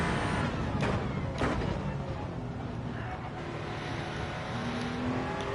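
A hybrid race car on an out lap of the Daytona road course in a racing video game, warming its tires. The engine gives a quiet, steady drone with a couple of brief surges.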